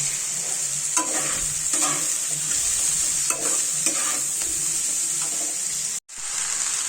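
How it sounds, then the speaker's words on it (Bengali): Cooked rice stir-fried in a pan sizzles steadily and close, with repeated scraping stirs of the spatula and a brief drop near the end. "এই যে ভাতগুলো এবার দিয়ে দিয়েছি, দিয়ে ভাজছি, প্রায় হয়ে এসেছে।"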